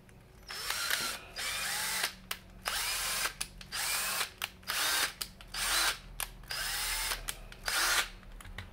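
A power drill drives a screw through a scrap of sheet metal in a string of short, loud, close whirring bursts with brief pauses between them. The pulses come in a stop-start rhythm.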